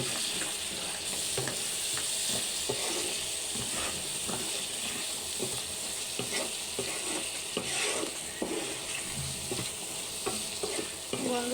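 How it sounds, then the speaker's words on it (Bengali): Ash gourd badi fry with masala and bay leaf in hot oil, a continuous sizzle broken by repeated scraping stirs of a spatula against the pan, close and fairly loud, with no talking. "সবগুলো বড়ি একসাথে দিয়ে ভালোভাবে কষিয়ে নেবো দুই মিনিট"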